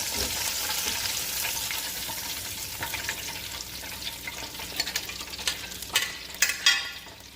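Hake fish fillet frying in hot oil, a steady close sizzle with a few louder crackles and stirring scrapes near the end as the fish is lifted out.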